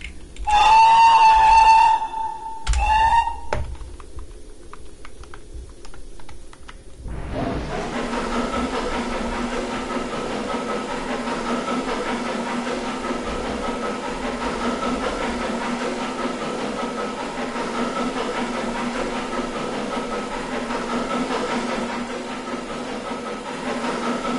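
A steam locomotive from the Roblox game MSR Golden Years starts with sharp whistle-like hissing blasts, then settles into a steady, loud rumbling drone with a hiss that runs unbroken to the end.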